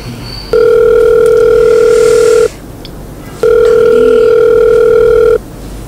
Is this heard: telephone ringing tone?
yes